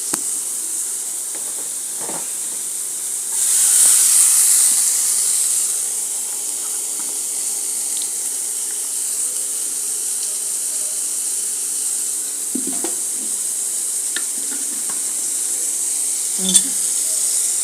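Spices frying in a kadai for titor dal after more oil is added, a long, steady hissing sizzle that swells briefly early on, with a few faint clinks and scrapes close by.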